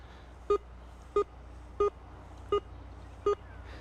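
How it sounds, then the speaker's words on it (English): Five short electronic beeps from a Whites CoinMaster metal detector at an even, slow rhythm, each clear and identical, over a quiet background hiss. "You want a solid repeatable beep over multiple passes."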